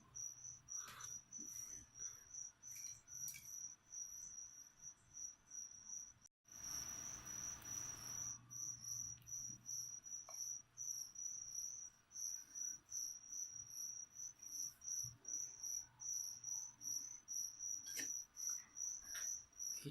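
Feeder crickets kept as leopard gecko food chirp in a steady, rapid high trill, quiet and close, broken briefly by a burst of handling noise partway through.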